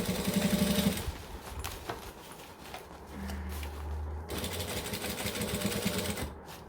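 A sewing machine stitches a seam, then reverses for a back stitch, its motor humming in bursts with pauses between runs; the whirring is close and moderately loud, with no one talking.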